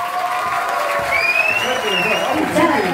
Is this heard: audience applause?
yes